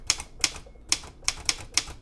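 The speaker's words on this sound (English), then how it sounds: "You would use your typewriter to type up a master using the stencil setting." A vintage manual typewriter set to its stencil setting types a stencil master: six sharp, close keystrikes land in an uneven rhythm, each crisp snap fading quickly into a quiet room.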